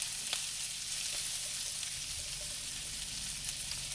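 Cabbage frying in a pan of olive and vegetable oil, a steady close hiss and sizzle with faint pops and crackles throughout, alone without talk.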